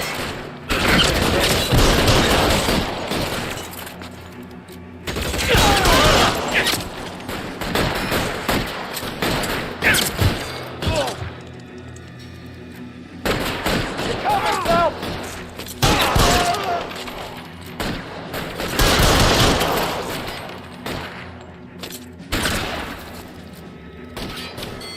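Gunfire from the crime thriller video game L.A. Noire: repeated bursts of shots and booms in clusters of volleys spread across the stretch, loud and close, with shouted voices mixed in among the fire.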